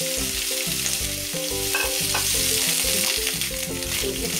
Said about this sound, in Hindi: तेल हमारा गर्म हो चुका है, इसके अंदर हम कटे हुए कटहल के टुकड़ों को डाल देंगे।